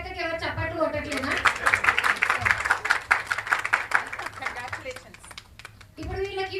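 Audience applause at a one-day women's retreat rises into steady, dense clapping lasting several seconds, bracketed by someone speaking before and after.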